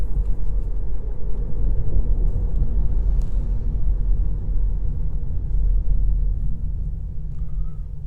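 A Kia Niro 1.6 GDI 183 hp plug-in hybrid with a 6-speed dual-clutch gearbox, running on its electric motor in town, gives a steady, loud low rumble of road and cabin noise with no engine note.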